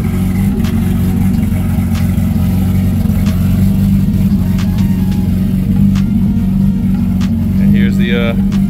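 The swapped engine in a Nissan Maxima idles, a loud, steady rumble that wavers slightly as it settles, close up, with a brief faint voice near the end.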